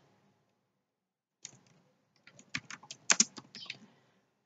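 Quiet bursts of computer keyboard typing start after a silent pause and turn into a quick run of close, crisp key clicks.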